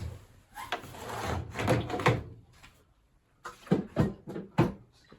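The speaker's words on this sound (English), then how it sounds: "Oh, that drawer's falling out." A loose drawer slides and clunks out of a Beko DRCS68W condenser tumble dryer during a drum seal repair, with several dull wooden and plastic knocks and scrapes, fairly near, in bursts separated by a short quiet pause.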